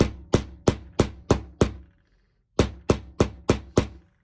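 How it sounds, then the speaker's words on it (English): Ten sharp hammer taps on a metal snap fastener, five in a steady rhythm, a short pause, then five more, close and crisp. "and then I just use a regular hammer."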